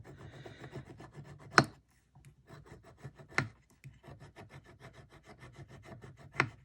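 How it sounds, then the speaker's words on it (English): Metal tool rubbing and rasping in short strokes over a riveted metal jewelry bezel during burnishing and light sanding, steady scraping with a few sharper, louder strikes standing out, close and clear with no talking. "now I'm just burnishing that surface again"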